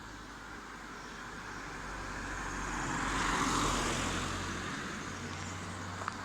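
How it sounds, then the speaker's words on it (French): A car comes along a road through ruins on a rural walking route, its engine and tyre noise swelling steadily from far to near and then easing slightly, with no talk. "Ah oui, il y a une voiture qui arrive."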